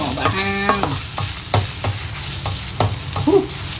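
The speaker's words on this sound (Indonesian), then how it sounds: "Goreng dia bagi garing sikit." Anchovies fry in a pan with a steady sizzle while a utensil scrapes and stirs them in sharp, irregular strokes, close and clear with no talking.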